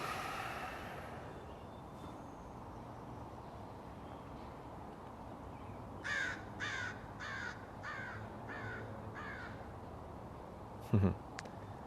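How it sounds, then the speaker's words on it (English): A crow flies past outdoors, giving a short series of about six harsh caws in a row, moderately close and above a steady low background hum. "awakened the crow that just flew by"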